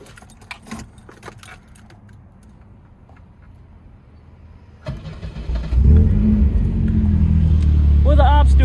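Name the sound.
1984 Volvo 242 B230 engine starting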